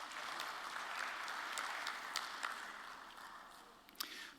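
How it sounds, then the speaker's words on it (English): A conference audience breaks into applause, a dense, steady wash of clapping from a seated crowd with a few sharper nearby claps, tapering slightly toward the end. "on les applaudit tous"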